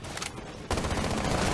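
Gunfire in the Rainbow Six Siege shooter, a quieter stretch followed by a sudden loud, sustained burst of rapid shots that fills the rest of the moment.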